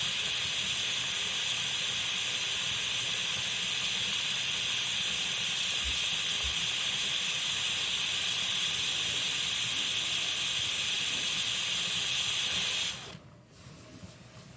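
Pressure canner hissing steam while canning jars of tomato basil soup, a loud, steady broadband hiss that continues unbroken before dropping away abruptly near the end.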